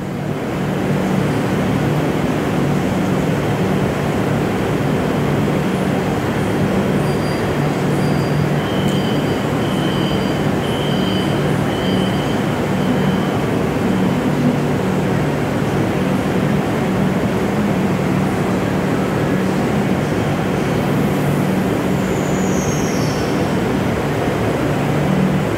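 An old non-AC Kolkata Metro train runs with a loud, steady rumble heard from the final carriage, with faint high squeals from the wheels partway through.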